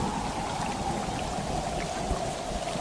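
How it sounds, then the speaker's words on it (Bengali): Heavy rain in an evening storm, a dense steady hiss of downpour with a low rumbling undertone, continuous and fairly close, with no voices. "সেদিন সন্ধ্যা থেকে শুরু হলো খুব ঝড় বৃষ্টি"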